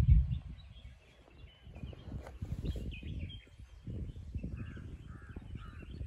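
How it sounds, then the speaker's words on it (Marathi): Crows cawing near a river in the evening, a few harsh repeated caws at middle distance among fainter bird calls, set against a low, rumbling outdoor background. "आवाज बघा पक्ष्यांचे."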